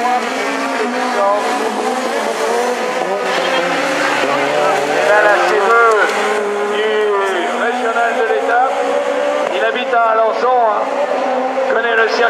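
A Super 1600 rallycross car at the Essay 2015 round howls through the joker lap, its engine revving up and down in sustained, loud waves while a commentator talks over it throughout.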